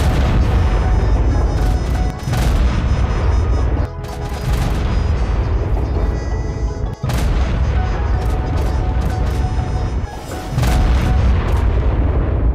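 A Manticore's explosive power attack in ARK booms again and again, loud, dense blasts and rumbling detonations in quick succession over continuous heavy roar, with brief gaps between volleys.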